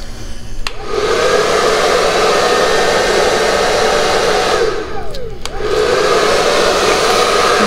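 A hair dryer blows steadily and loudly up close over a resin Dutch pour, with a brief dip and restart in the airflow partway through.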